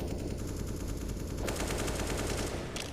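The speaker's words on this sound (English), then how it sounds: "Shots goes both ways." Rapid bursts of gunfire trade back and forth in a CS:GO professional match, crisp automatic shots rattling at moderate volume with sharper reports near the end and no talk over them.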